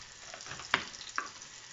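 Onions cook in a pan with a steady soft frying hiss, broken by two brief sharper clinks or pops, close and with no one talking.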